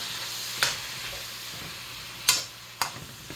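Ground turkey cooks in a pan with a steady low sizzle, broken by a few sharp scraping stir strokes from a utensil, close and alone with no voices.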